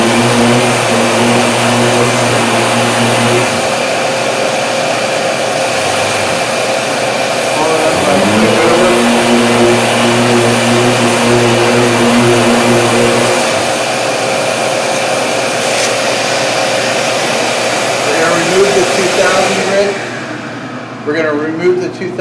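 An orbital sander with a 2000 grit pad runs continuously on a painted car surface to remove dirt nibs, a loud steady whirring hum that shifts pitch now and then and winds down near the end.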